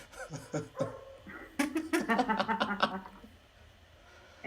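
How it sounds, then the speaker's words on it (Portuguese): A dog yips and whimpers in short bursts, then lets out a quick run of excited barks, close by and moderately loud. "vai ter super a performance do cachorro latindo aqui"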